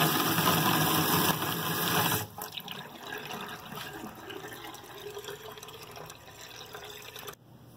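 A stream of water running from a tap onto a suspended weight in a Coanda effect demonstration, with loud steady splashing and spray for two seconds, then a quieter, softer flow that continues to the end.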